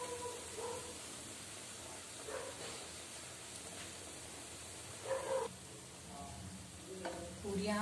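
Sweet puris deep-fry in hot oil, giving a steady soft sizzle throughout, with a few brief bubbling bursts as the dough is moved in the pan.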